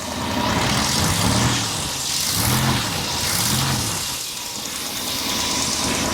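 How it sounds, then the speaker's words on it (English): A 1966 Ford Thunderbird engine running smoothly after its carburetor was repaired, a steady, close, loud rumble with slight gentle swells in revs. "Listen to her purr."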